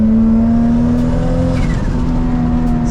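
A 600hp Toyota MK4 Supra driving hard, its engine holding a loud, steady high-revving drone close up, with a rising tone near the end and no break for the full three seconds.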